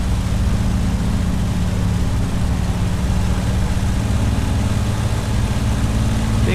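Supermarine Spitfire engine in a flight simulator, slowing down near Biggin Hill: a steady, loud low drone with a constant hum, unchanging throughout and without talk.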